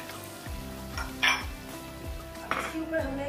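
A utensil stirs a creamy yogurt mixture in a bowl for a herb chicken curry, making steady, rhythmic scraping strokes with occasional light clinks, close up over a faint background hum.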